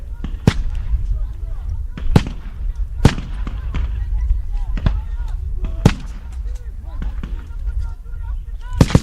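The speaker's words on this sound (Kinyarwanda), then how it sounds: "Umwanzi yaryohewe cyane no kurasa" Loud gunshots crack out in irregular bursts during combat, close and sharp, with some single shots and some spaced reports over a constant rumbling background.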